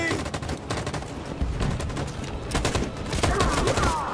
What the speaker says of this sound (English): That machine gun is taking down everything that moves.